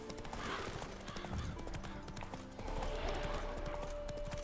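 Hooves of the horse Roach pound at a gallop in The Witcher 3: Wild Hunt, a steady clip-clop rhythm running throughout with game ambience underneath.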